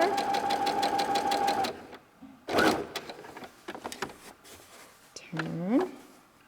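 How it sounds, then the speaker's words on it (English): Sewing machine stitching a simple tote bag: a steady rapid needle rattle runs, stops, and resumes in short back-stitch bursts, with handling noises and a rising whine-like squeak near the end. "Back stitch there to secure your opening."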